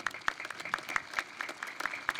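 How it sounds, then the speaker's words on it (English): Scattered, fairly distant applause at an outdoor Veterans Day ceremony in Arlington, honoring the city council: a few hands clapping in an uneven rhythm, faint and sparse. "Please give a round of applause to our Arlington City Council."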